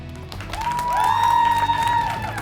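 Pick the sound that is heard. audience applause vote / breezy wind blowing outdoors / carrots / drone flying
audience applause vote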